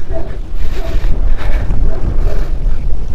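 Strong wind buffets the microphone in loud, gusty rumbles at a campsite in Cavinti, Laguna, rising and falling continuously over a few seconds.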